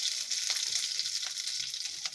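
Mustard seeds and curry leaves fry in hot oil in a pan, giving a steady, close sizzle with small pops and crackles throughout.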